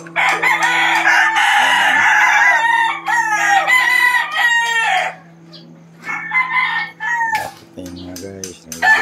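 A rooster crows loudly and close by, letting out several long, wavering calls over a steady low mechanical hum, with brief pauses between the calls.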